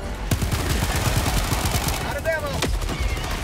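Rapid gunfire in the video game Helldivers 2 rattles on continuously and loud, dense automatic bursts with a few heavier blasts and a brief whistling tone mixed in.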